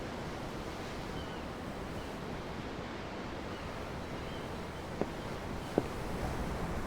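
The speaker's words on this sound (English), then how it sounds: "I'm looking at the ocean." Steady ocean surf rolls and washes in the Tales of Arise video game at a hidden wharf, a continuous broadband wash with two faint short knocks near the end, no voices.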